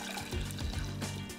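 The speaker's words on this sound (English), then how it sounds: "Heat a pot over medium heat" Water poured into a cooking pot on medium heat for polenta, a steady close splashing trickle with low gurgling pulses that runs unbroken the whole time, with no voices.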